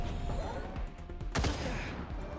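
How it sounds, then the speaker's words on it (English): Turrets in Wasteland 3 open fire in a rapid burst of gunfire with crackling impacts and one sharp, loud blast near the middle, over a dense mechanical battle din. No voices. "Oh, those turrets are strong."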